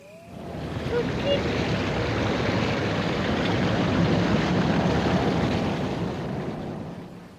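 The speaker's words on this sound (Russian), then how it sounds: "Похоже, звук водопада прекратился." A waterfall in Resident Evil HD Remaster gives a steady, loud, broadband roar that swells in, holds evenly for several seconds, then fades away near the end.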